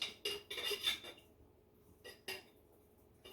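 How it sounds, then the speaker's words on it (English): A spatula scrapes leftover bolognese sauce from a glass jar, a few quiet scraping and clinking strokes in short bursts with pauses between, close and alone. "Get my spatula here, get the rest of this out."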